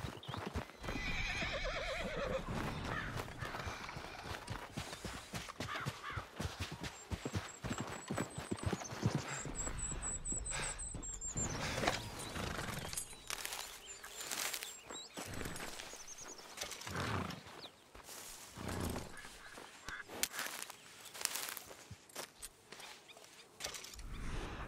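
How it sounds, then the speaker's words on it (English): A horse in the Red Dead Redemption 2 Online video game whinnies and snorts while its hooves clip-clop in irregular bursts, fairly close, with no talk over it. "Maybe Scraps is the only horse I deserve"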